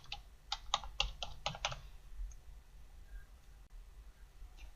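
Fast bursts of keystrokes on a computer keyboard as a name and an ID-card barcode are entered, loud clicks through the first two seconds, then only faint room hum with a stray tap or two.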